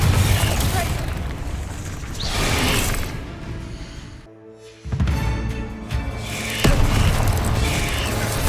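Explosive Confringo spell blasts in a Hogwarts Legacy battle, loud booming bursts layered with mechanical clatter and crackle, dropping to near silence midway before the impacts and roar return.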